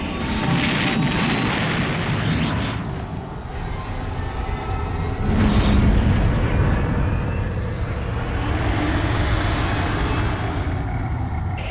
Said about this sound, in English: We're reporting total destruction of primary target and huge secondary chain reaction explosions all across the planet's surface.